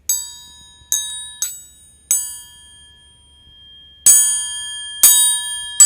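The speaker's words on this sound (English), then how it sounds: "Then you actually have things like your triangle, which a lot of us will have started with." A metal triangle is struck repeatedly, bright ringing pings at an uneven pace, each one sustaining and decaying before the next; the later strikes ring louder.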